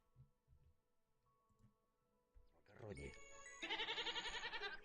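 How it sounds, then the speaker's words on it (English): A goat bleats loudly and close in the sound of a played war-footage video, a long wavering cry coming after quieter rumbling noise. "I don't know why there's goat sounds,"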